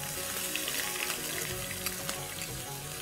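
Ginger and garlic fry in hot oil with cumin, mustard seeds and curry leaves for a dal tempering, giving a steady, close, loud sizzle with scattered pops and crackles throughout.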